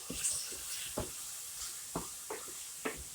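Onion being stirred in a pan for egg rolls, a quiet sizzle under a few soft scraping strokes of the spoon, close and fairly faint.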